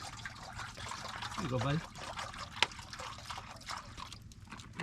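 Water trickles and pours out for a dog to drink at a desert truck camper camp, a faint liquid dribble under a man's speech and outdoor background noise.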